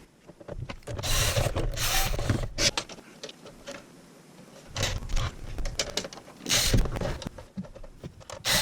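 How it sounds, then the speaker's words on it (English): Screws being fitted back into a Buick Grand National ECM case, a close sequence of small metallic clicks, scrapes and handling rattles in irregular bursts with quiet gaps. "Put all your screws back on."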